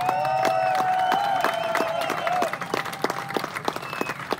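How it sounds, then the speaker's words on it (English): A rally crowd applauds veterans at an opening ceremony, dense clapping that holds steady, then thins into scattered claps after a couple of seconds, with a tonal line running through the early part. "Give a round of applause for these veterans."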